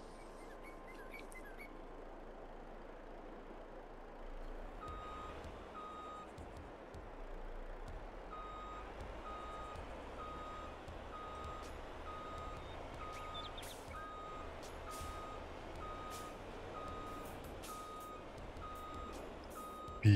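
A truck reversing in the farming game Landwirtschafts-Simulator 22, with faint, evenly spaced warning beeps repeating steadily over a low engine rumble, quiet and somewhat distant throughout.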